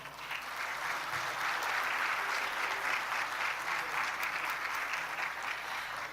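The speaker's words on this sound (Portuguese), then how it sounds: "Vamos aplaudi-lo." Audience at a Brazilian political event applauding as a speaker is introduced, sustained even clapping filling the room, loud and unbroken for several seconds.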